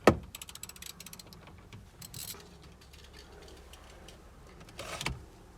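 A ratchet backs out the lower bolts on a Nissan 350Z side mirror, giving quiet, close clicking runs in short bursts with a sharp clack at the start and another near the end.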